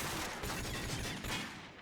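AK rifle fire in Call of Duty 4 ProMod, a dense, continuous burst of rapid shots filling the whole moment, loud and up close with no break.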